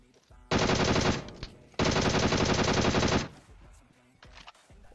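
Blind automatic gunfire in PUBG Mobile rips out in two loud, dense bursts, the second longer, then trails into quieter game noise.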